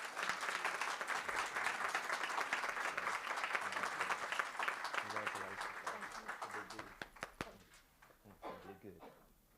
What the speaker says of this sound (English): Big round of applause for Miss Barbara Hopper